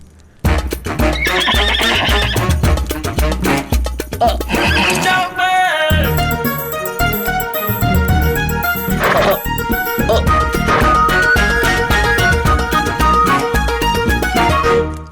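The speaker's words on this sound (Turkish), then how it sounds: "Bu at güzele benziyor." Loud, drawn-out horse neighing, with whinnies and some clip-clop of hooves, mixed with dramatic music in an Indian fantasy television series.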